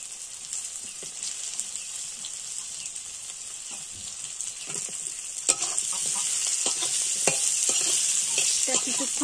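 Vegetable stems sizzle and crackle steadily in hot oil spiced with chili, with a utensil scraping and stirring through the pan; the frying grows slightly louder partway through, with no voices.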